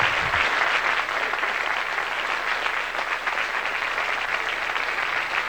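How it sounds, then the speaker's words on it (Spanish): Sustained audience applause fills the room at a 1990s Spanish comedy performance by Eloy Arenas, loud and dense throughout with no pause. "por estos aplausos que tanto me estimulan"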